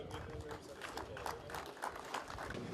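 An indoor audience at a formal ceremony claps steadily in sustained applause to welcome a speaker, with a dense, even texture and no voices on top.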